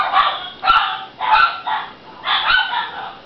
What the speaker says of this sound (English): You hear both doggies?